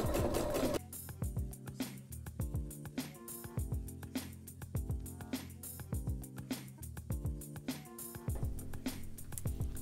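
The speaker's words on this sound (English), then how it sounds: "Take a few stitches, take a few back stitches, and just sew along through all the layers." A sewing machine stitches and back-stitches through several layers of fabric on a gaiter scarf mask, running in a steady, loud, rapid mechanical rhythm close by after a brief noisy start.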